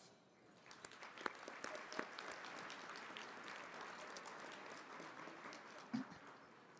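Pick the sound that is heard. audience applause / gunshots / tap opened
audience applause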